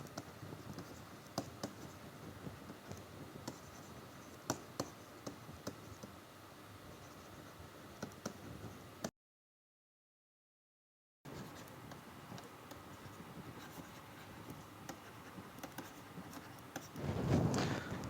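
Pen or chalk writing during a geology lecture on unconformities: steady faint scratching and tapping strokes over a quiet room, broken by a short gap of silence, then more scratching with a brief louder rustle near the end.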